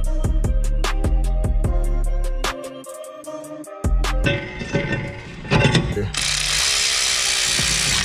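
Ratchet wrench tightening a wheel bearing on a 2013 Cadillac SRX: a rapid run of sharp, evenly spaced clicks up close, then a pause, irregular mechanical clatter, and a steady hiss.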